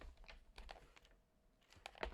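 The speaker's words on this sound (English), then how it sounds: "OMG, your keyboard's loud." Fast, clattery typing on a computer keyboard, key clicks tumbling close and fairly loud, pausing briefly before a final burst of strokes.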